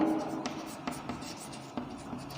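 Chalk or a marker taps and scrapes on a board during a chemistry lesson on naming organic compounds, with several short, faint strokes spread across the moment and no talk.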